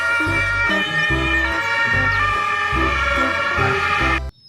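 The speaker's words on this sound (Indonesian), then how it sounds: "Keluarlah mobil ambulans." A toy ambulance wails with a loud electronic siren, a bright warbling tone over a pulsing beat that plays steadily for about four seconds before it cuts off abruptly.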